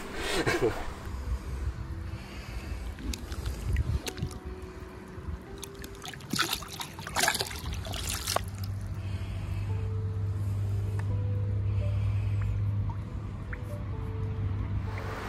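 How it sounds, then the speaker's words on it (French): A carp slipped back into the water from the bank during a fishing session, with splashing and dripping water up close, some handling noise, and a steady low hum underneath. "on va le remettre à l'eau"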